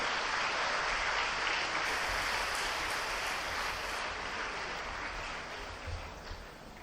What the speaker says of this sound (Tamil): அடுத்த கைத்தட்டல் உங்கள் பெற்றோர்களுக்கு